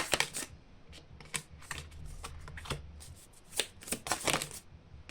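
Tarot-style cards being shuffled for a card reading, a run of quick crisp riffles and flicks close by, coming in uneven bursts, with no talking.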